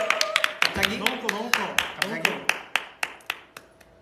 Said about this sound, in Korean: 기립 박수 해버렸습니다.